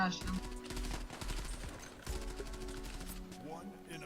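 Repeated gunshots in the shooter game Zula, fired at an enemy through glass, come as several sharp bursts spread across the stretch with game ambience and faint voices beneath.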